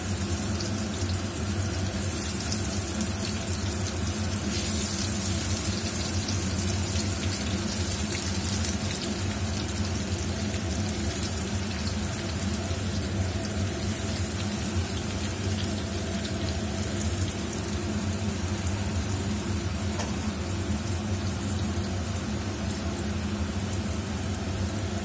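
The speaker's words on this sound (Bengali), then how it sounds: "এরপরে আমি একে একে ভেজিটেবল চপগুলোকে তেলের মধ্যে ছেড়ে দেবো।" Vegetable chops deep-frying in hot oil give a steady, dense sizzle with a bubbling hiss that runs on unbroken throughout at moderate loudness, with no talking.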